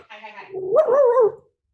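A dog, a spaniel puppy belonging to the neighbors, gives a drawn-out whining bark-like vocalization lasting about a second, close by and fairly loud, preceded by a brief softer sound.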